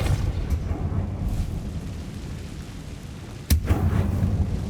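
A Repulso spell blast in Hogwarts Legacy: one sharp, loud burst with a deep rumbling tail, standing out from a low ambient drone.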